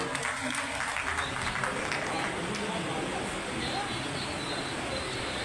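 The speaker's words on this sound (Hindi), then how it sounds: "इनके लिए भी जोरदार तालियां बजा दें" A large crowd at a Partition Horrors Remembrance Day gathering applauds in a dense, continuous roar of clapping, mixed with crowd murmur and heard at a distance.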